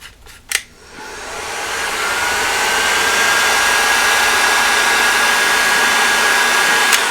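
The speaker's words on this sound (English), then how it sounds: "heat that up with a heat gun" A heat gun heats heat shrink sleeving on a Fender Princeton Reissue amp. A couple of handling clicks come first, then a loud steady blowing whine rises and holds to the end.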